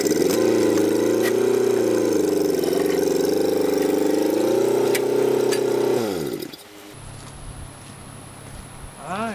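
A forklift engine idles steadily and loud for about six seconds, then cuts off, leaving quieter workshop sounds.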